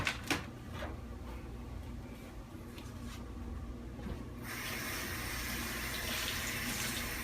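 Cut raw potatoes are rinsed under a running kitchen tap, a steady hiss of water that swells fuller and brighter halfway through. A few light clunks sound near the start.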